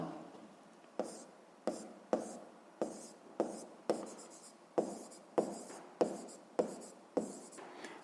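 Handwriting on paper, probably chalk or pen strokes in a quiet room, arriving as a regular series of short, sharp taps and scratches about every half second, close and moderately loud with no talk.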